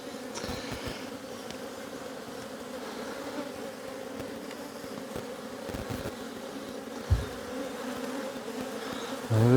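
Honey bees hum steadily around an open hive during a hive check, a dense, continuous drone with a few close buzzing passes and occasional bumps.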